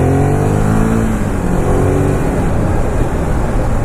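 A Ducati Monster 821 engine drones loud and steady on a test ride, with a low rumble, rising engine tones early on, and wind noise throughout. There is no talking.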